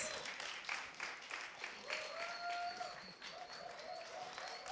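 A crowd applauds the guest André Barroso during a voice-awareness program opening, a steady patter of many hands clapping at moderate distance, with faint cheers and voices mixed into the ongoing clapping.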